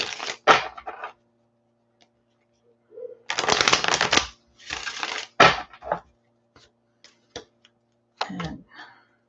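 Tarot and oracle cards riffle and slap in several close, crisp bursts of shuffling, separated by brief pauses, with a few light taps and flicks of cards near the end.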